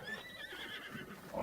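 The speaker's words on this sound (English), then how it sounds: "See if we can sneak up on one of these horses and grab one." A horse neighs in Zelda: Breath of the Wild, a bright whinny at the start followed by a steady wash of outdoor game ambience, no talk.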